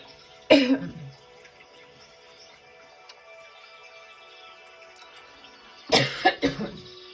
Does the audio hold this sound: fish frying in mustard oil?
no